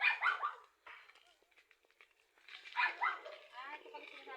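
Several dogs bark and yip in a couple of loud bursts on a hillside trail near small gardens, with quieter gaps between and people talking nearby.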